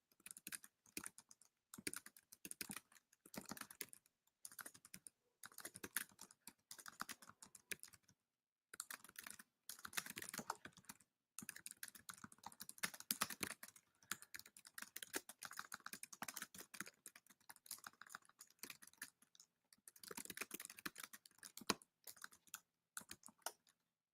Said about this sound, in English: And I'm typing mine in right now.